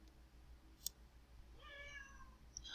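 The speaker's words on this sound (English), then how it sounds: "can you hear my cat?" A single short cat meow, faint and a little distant, over a low background hum with a soft click before it.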